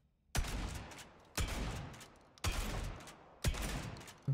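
Four heavy shotgun blasts in a video game, roughly one per second, each a loud boom followed by a short ringing decay.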